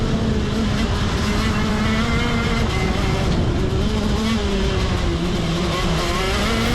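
A KZ racing kart at Forest Edge screams down the straight, its engine note close and loud, holding high revs and then rising again as it accelerates.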